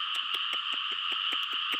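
Large frogs croaking in a repeated, steady series of short calls over a constant high insect-like drone, close and clear, with no one talking.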